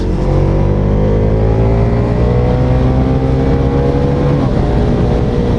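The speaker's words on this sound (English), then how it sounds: "here we can give it some gas a bit" A V4 muscle cruiser motorcycle accelerates hard while cornering, its engine roaring loud and close with a steady throaty drone and a rising pitch throughout.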